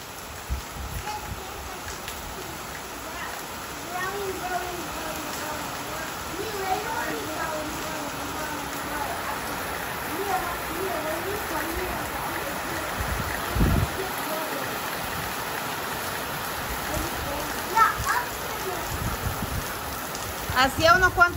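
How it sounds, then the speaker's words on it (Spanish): Steady rain falls on surfaces around a rural home with mango trees in the Dominican countryside, a continuous close hiss with scattered drips, while voices talk faintly in the background. "Hoy es el día que nos tocó esa lluvia."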